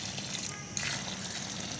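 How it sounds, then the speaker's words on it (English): Warm water pours steadily into an okpa mix of flour and oil, a continuous faint gushing, splashing stream with no voices over it. "This is to add your warm water"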